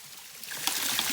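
A small stream gurgles and trickles in a brief, soft burst, close by and faint, used to refill water bottles outdoors; no voices are heard.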